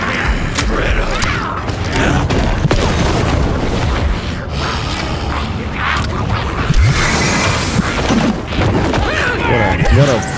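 Heavy gunfire booms repeatedly from a gun in Alan Wake II, loud and close over dense mechanical clatter, creaks and rumbling game noise that runs throughout, with a player talking now and then.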